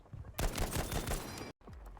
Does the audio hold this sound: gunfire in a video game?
yes